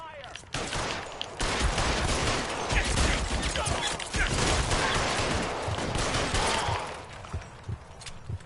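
Heavy gunfire in L.A. Noire: dense bursts of rapid shots and automatic fire crackle continuously for several seconds, loud and close, before thinning into scattered shots at the end.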